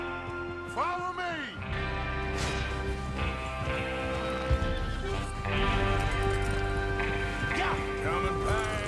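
Horses galloping in Red Dead Redemption 2, steady hoofbeats and clip-clop mixed with game music and ambience, with a voice speaking over them.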